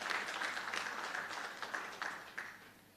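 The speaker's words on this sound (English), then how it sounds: "You can give them a round of applause, please." An audience applauding at a live broadcast event, a short burst of indoor clapping that fades toward the end.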